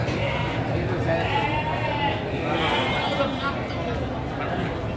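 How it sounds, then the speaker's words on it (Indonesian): Sheep bleating at a livestock market in Tanjungsari, Sumedang, amid a steady crowd din and voices, with the bleats blending into the busy background rather than standing out alone. "Ini keren sekali ya dombanya"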